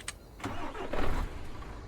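A truck engine starts in Euro Truck Simulator 2, a short cranking burst that catches and settles into a low, steady idle rumble, close and moderately loud.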